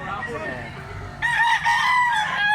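A rooster crows loudly and close by at a gamefowl market in Consolacion, Cebu, one long call rising over a murmur of background voices and clucking.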